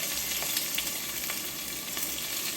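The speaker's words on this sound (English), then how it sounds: "So you want to stir fry the onion" Onion stir-frying in a pan for Japanese beef curry, a steady dense sizzle filling the whole stretch with faint clicks of stirring, close and fairly loud with no talking.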